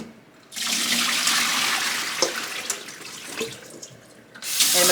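Water from freshly washed potatoes pours through a strainer in a steady, rushing splash lasting several seconds, then stops briefly before gushing again.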